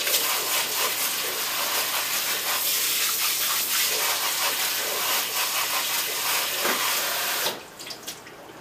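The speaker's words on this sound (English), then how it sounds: "I'm going to drain the cashews, drain and give them a quick rinse." Soaked cashews being drained and rinsed in a kitchen sink, a steady hissing rush of tap water for about seven seconds before it stops, followed by faint drips and handling.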